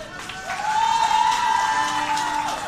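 A short burst of steady clapping from a crowd at a supermarket opening in Szczecin, with a faint sustained tone running through it.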